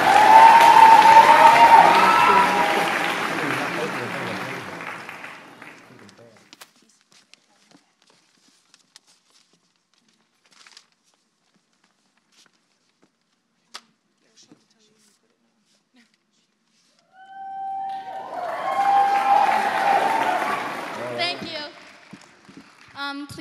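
An audience at a talent show applauds and cheers in a loud burst that dies away into near silence, then another swell of crowd noise and clapping rises near the end.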